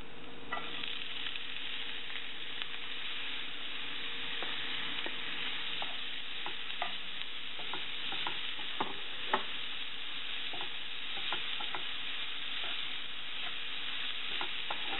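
Chopped onions fry in hot oil in a pan, a continuous close hiss of sizzling with faint crackles and occasional light stirring clinks, steady for the whole stretch and free of speech.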